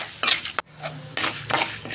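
Chana dal and urad dal fried in oil in a pan, with a few short scraping and stirring strokes of a utensil against the pan over a faint sizzle, close and fairly quiet.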